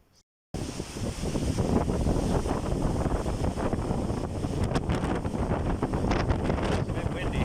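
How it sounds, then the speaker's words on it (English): Strong wind buffets the microphone near China's Baizhang Waterfall, a loud, steady rushing roar that starts abruptly and keeps up without a break. "It's a bit windy here. You might be able to hear."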